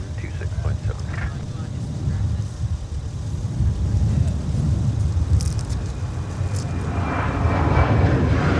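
A departing airplane at MSP airport on a winter day gives a low, building jet engine rumble that swells steadily louder toward the end, mixed with road traffic and a faint voice in the background.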